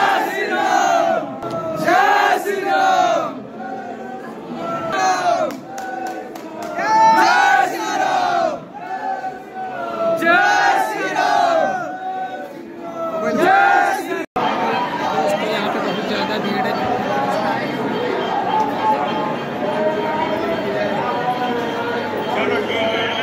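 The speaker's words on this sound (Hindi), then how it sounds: "काफी ज्यादा भीड़ है ये" Dense crowd noise at Shri Ram Janmabhoomi in Ayodhya, with loud overlapping voices and shouted chants for the first fourteen seconds. After a brief break, a steady, close, continuous hubbub of many people follows.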